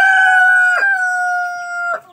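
A domestic rooster crows in one long, loud, close drawn-out call, with short clucks from nearby hens during the crow.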